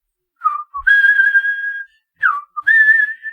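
Homer Simpson whistling a bright tune in The Simpsons, two clear melodic phrases of sustained and sliding notes separated by a short silence, close and alone with no talk.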